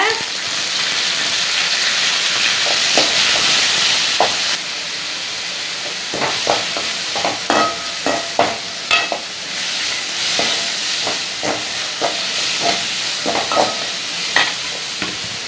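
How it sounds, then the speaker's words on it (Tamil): Onion, coriander leaves, curry leaves and mint fry in a pan, first a loud steady hiss, then repeated rhythmic scrapes and stirs of a spoon over the sizzle. "வெங்காயம், மல்லி இலை, கருவேப்பிலை, புதினா எல்லாம் வதங்கிடுச்சுப்பா"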